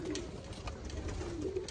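Rojy pigeons cooing softly, low murmuring coos in a brief, quiet stretch with faint background noise.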